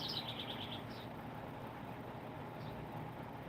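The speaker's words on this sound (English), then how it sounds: "I love the birds when they hear me outside. Just they come and sing all the time." Birds singing outdoors, a brief run of faint, rapid chirps near the start and another short call later, heard at a distance over steady background noise.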